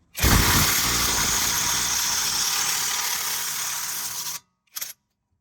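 A loud, rattling impact wrench removing wheel bolts on a 2012 Honda Civic runs nearly four seconds, stops abruptly, then gives one short final zap.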